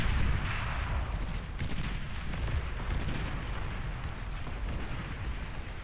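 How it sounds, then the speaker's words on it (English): Long-range artillery in the real-time strategy game Beyond All Reason rumbles as a steady, muffled wash of distant blasts and booms, fairly faint and unbroken, with no distinct single impacts. "We're starting to get some long-range artillery getting dropped up for Talons up at the top."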